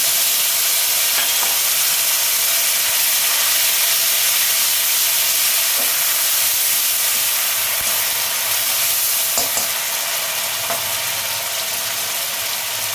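Onion paste and turmeric frying in a pan for spiced taro curry, a steady, loud sizzling hiss with a few brief clinks or stirs, no talking.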